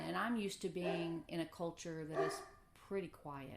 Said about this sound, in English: Yeah, sorry about my dog.